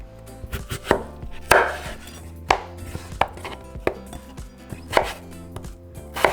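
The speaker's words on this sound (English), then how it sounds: "after we peel the potatoes, we're going to cut them in small cubes" Knife cutting peeled potatoes into small cubes on a board: a series of sharp, close chopping knocks at an uneven pace, about a dozen strokes with short pauses, no voices.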